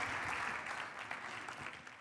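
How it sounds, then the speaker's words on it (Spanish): Conference audience at Digital Bank Chile 2022 applauds in a steady, dense burst of clapping from a large hall crowd that continues throughout. "Vamos, un gran aplauso para Walter."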